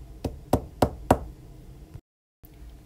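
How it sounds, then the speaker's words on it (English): Four firm knocks on a door come in a steady, evenly spaced sequence, close and distinct, followed by a brief silence. "A few minutes later, Red Riding Hood knocked on the door."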